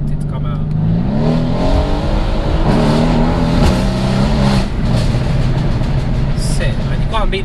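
A Mercedes C63 S AMG turbocharged V8 engine, about 620 bhp, roars and revs close by, pitch climbing and dropping through gear changes, loud and continuous.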